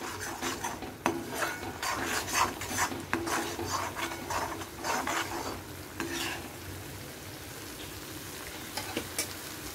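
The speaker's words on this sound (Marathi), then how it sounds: "आता यामध्ये आपण वाटण घालून घ्यायचं आहे. हे चांगलं परतून घेऊ आपण." Ground masala paste sizzles and scrapes as it is stirred and sautéed in a pan while cooking small fish, with steady rasping frying and irregular spoon strokes, fairly quiet and without speech.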